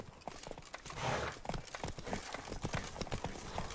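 A horse gallops in The Witcher 3: Blood and Wine, a quick run of hoof clip-clops on hard ground, moderately close and fairly quiet, with no voices over it.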